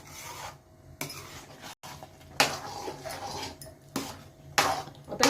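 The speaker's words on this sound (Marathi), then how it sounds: "ह्या स्टेजला सतत हलवत राहायला लागणार आहे" A utensil scrapes and rasps against a pan while thick puran, a sweet lentil filling for puran poli, is stirred, in short repeated strokes about once a second, close and fairly loud.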